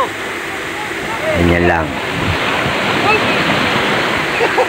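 People jog through shallow water during water search and rescue training in Nasugbu, Batangas, making a continuous rushing splash, while a voice briefly speaks over it.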